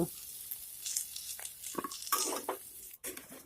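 Sizzling and crackling of cauliflower and potato frying in a wok, with scraping stirs and clinks, a brief pause near the end before the frying resumes.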